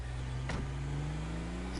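Car engine in GTA 5 Online, an SUV-type vehicle, hums steadily at a low pitch throughout, with a brief higher whine near the start and a constant droning tone.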